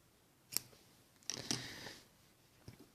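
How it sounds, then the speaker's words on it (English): Scissors snip through knitting yarn during loom hat making, a few crisp, close clicks and a short cutting rasp in an otherwise quiet room. "Just cut off the yarn."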